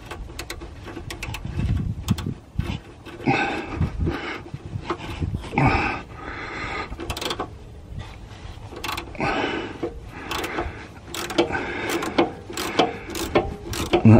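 A socket wrench ratchets against a corroded 10mm nut on a Range Rover L322 during lower control arm work, giving close, irregular clicking and metallic rubbing bursts across the clip with no talk.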